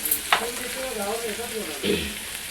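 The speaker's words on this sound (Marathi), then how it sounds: "तर आपल्याला चांगला लसूण कांदा वगैरे भाजून घ्यायचा आहे" Garlic and onion fry in a pan with turmeric powder, giving a steady close sizzle broken by a couple of brief stirring scrapes, with no voices.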